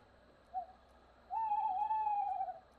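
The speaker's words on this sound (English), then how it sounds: "What are you doing, owl?" An owl in the Boogeyman video game gives a short hoot, then a longer, steady, louder hoot, clear against a quiet background with no talk.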